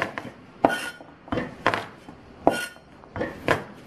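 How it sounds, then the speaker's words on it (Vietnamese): A knife minces garlic and chili on a board in quick uneven bursts of sharp taps, close by, with short pauses between runs. "tỏi ớt sẽ băm nhỏ"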